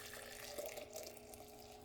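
Hot dye liquid pours from a pot into a jar, giving a faint, continuous trickling and splashing with a faint tonal ring, quiet and unbroken, no talking.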